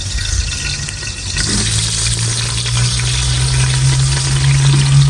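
Onions sizzling in hot ghee inside a pressure cooker on the stove, a steady crackling fry that grows slightly louder, with a constant low hum underneath and no talking.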